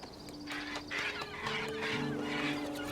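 Birds in the video game Broken Age cluck and chatter in short, overlapping calls at close range over a faint tonal background.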